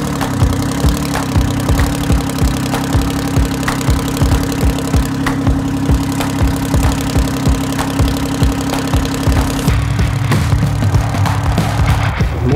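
Mortis, a 6x6 monster hearse, roars with a loud, steady engine drone and rapid low-end pulsing that shifts pitch near the end, constant and close throughout with no talking.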